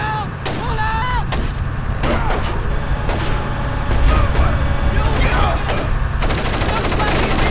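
Gunfire in Splinter Cell Chaos Theory crackles as a rapid, irregular string of sharp, loud shots, about a dozen bursts over several seconds, mixed with game noise and voices.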